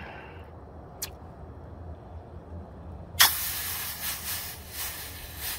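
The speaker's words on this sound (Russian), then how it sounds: "свинец начал приобретать хорошую форму. Итак, мы выплескиваем его в чашу." Molten lead splashed into a bowl of water, bursting into a sudden loud hiss that spits and sizzles for a couple of seconds after a quiet lead-in with a small click.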